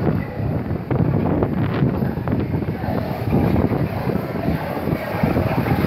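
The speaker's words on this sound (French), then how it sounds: "parce qu'il vente pas mal ici" Strong wind roars steadily and buffets the microphone with a dense, rough rushing that never lets up.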